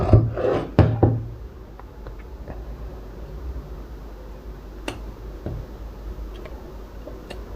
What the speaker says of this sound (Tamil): உள்ளே போகிறத மடித்து பிடிச்சிட்டு இப்படி கட் பண்ணிடுங்க